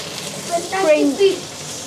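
Ginger and garlic splutter and sizzle in hot oil in a wok for Chinese noodles and gravy, a soft crackling bed under brief overlapping talk.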